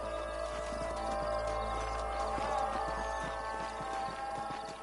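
Horses' hooves clip-clop at a steady walking pace in the video game Red Dead Redemption, over a continuous low ambient hum, with no voices.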